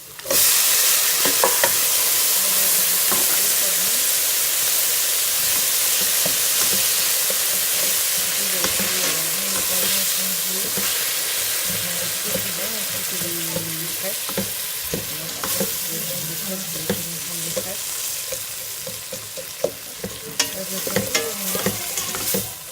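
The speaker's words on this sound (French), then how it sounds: "je vais continuer à faire revenir les oignons" Onions sautéing with salt in a hot pan while preparing rice for a shrimp dish, a steady loud sizzle broken by stirring scrapes throughout, with no talking.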